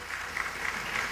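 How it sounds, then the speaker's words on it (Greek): A crowd at a concert on Syros with local bands and a choir gives a brief round of steady, fairly distant clapping that holds an even level throughout. "Ένα χειροκρότημα πάλι"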